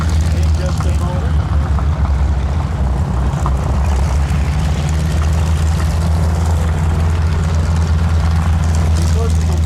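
The WWII aircraft Placid Lassie taxis during a Mid Atlantic Air Museum WWII Weekend in Reading, PA, its propeller engines a loud, steady low drone that fills the whole stretch, with voices faintly mixed in.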